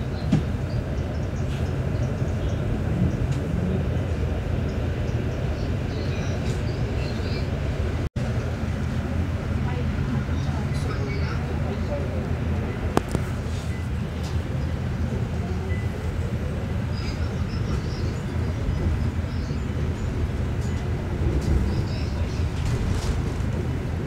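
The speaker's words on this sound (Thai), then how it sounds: "รถไฟนะคะ" A steady rumbling of a train running past at Ploenchit on Sukhumvit Road, Bangkok, continuous and fairly loud, with a brief sharp click partway through.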